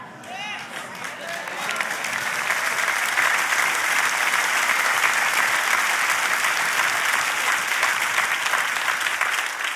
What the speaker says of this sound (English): Y'all are clapping at me